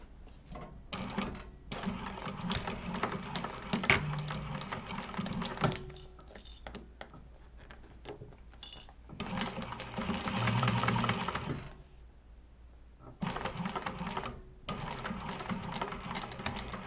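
A sewing machine runs in close bursts while basting a lining and exterior together along a narrow seam, its rapid mechanical stitching stopping and starting with short pauses between runs.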